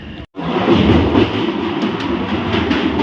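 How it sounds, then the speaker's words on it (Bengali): A train pulls into Sadura station on the Srinagar–Jammu line in snowy Kashmir, heard as a loud, continuous rumble of wheels and carriages after a brief dropout, steady and close, with no voices. "ট্রেন এলো সাদুরা স্টেশনে"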